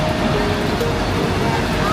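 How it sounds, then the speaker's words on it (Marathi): Heavy water flow at Thoseghar Waterfall in Satara during rain, a steady loud broadband roar and rush with no break throughout. "तुम्ही वॉटर फ्लो बघू शकता किती जास्त आहे. पाऊस खूप प्रमाणात पडतोय सध्या इथे."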